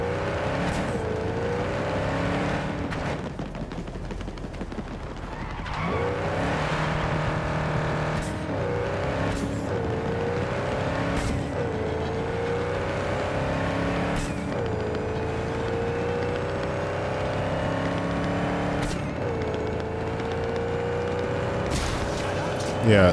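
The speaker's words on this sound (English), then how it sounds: "One of the best things they did in the update was make the engine sounds much better and kind of simulate gear changes." A car engine in the Cyberpunk 2077 video game revs and climbs repeatedly, with distinct pitch drops at each simulated gear change, running continuously and loud while someone talks over it.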